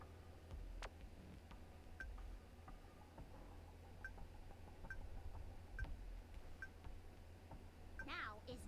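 Short tonal beeps of phone dialing in the game Goddess of Victory: Nikke, spaced roughly every half second to a second, faint beneath a busy game soundtrack and background noise.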